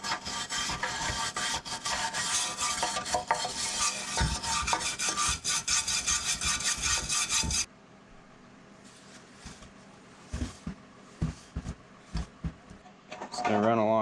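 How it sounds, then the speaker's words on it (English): The underside of the oil pan on a 1947 Allis Chalmers Model C tractor is scrubbed to remove old residue, giving rapid harsh rasping strokes up close that stop halfway, followed by quieter scattered scrapes and knocks. "I'm going to clean up the bottom of the oil pan so that way there's no old residue."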